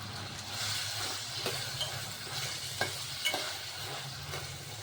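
Carrots sauté in a pan for a yogurt curry, a quiet steady sizzle with occasional soft scrapes of a stirring spoon, no talking.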